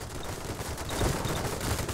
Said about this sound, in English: let's move in so that our Gatling guns can take advantage of the holes punched in the armor